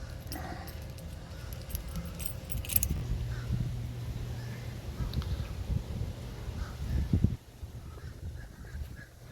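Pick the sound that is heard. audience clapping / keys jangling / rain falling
keys jangling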